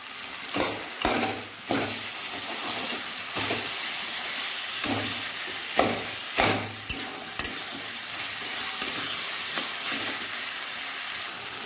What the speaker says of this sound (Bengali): এবার দিয়ে দেবো ইলিশ মাছের মাথাটা